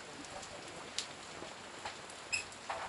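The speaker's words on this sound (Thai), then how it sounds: "นี่ก็คือบรรยากาศตอนที่ฝนตกนะครับที่สตูดิโอ My Fender นะครับ" Heavy rain falling outside a studio, a steady soft patter of drops with a few sharper taps standing out, fairly quiet and continuous with no talk.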